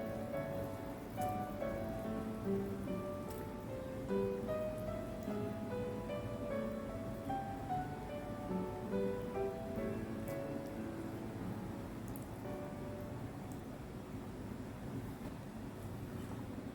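Kerala-style fish molly curry boiling in a pan, a soft, steady bubbling and popping simmer heard close and fairly quiet throughout.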